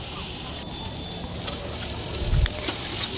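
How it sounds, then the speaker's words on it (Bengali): Vegetables such as potato and radish tipped into a wok of frying onions, giving a loud, continuous sizzle and hiss with a brief stirring clatter, heard close and without speech. "এখানে আমি সবজিগুলো দিয়ে দিচ্ছি।"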